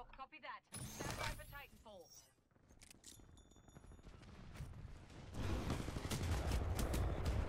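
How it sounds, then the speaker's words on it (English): Bursts of rapid gunfire aimed at the player crackle through a Titanfall 2 match, mixed with game effects and a rising dense rumble of shooting, while a player talks over parts of it. "Somebody is definitely shooting at me."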